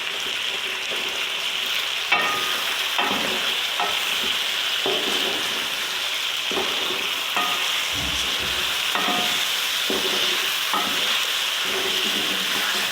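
Chicken frying with garlic ginger paste and green chilies sizzles steadily in a pan, broken by repeated scraping stirs every second or so, close and continuous with no talking.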